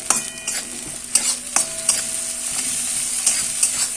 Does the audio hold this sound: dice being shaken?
no